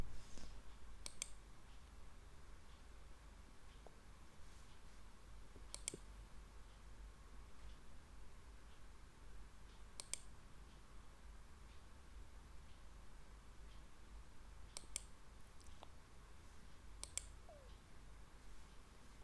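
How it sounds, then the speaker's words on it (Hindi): A computer mouse clicks while a video resolution is picked; a handful of faint, sharp, isolated clicks spaced several seconds apart over a quiet room hiss. "खैर मैं 1440p के वीडियो के ऊपर क्लिक कर रहा हूँ रेजोल्यूशन के ऊपर।"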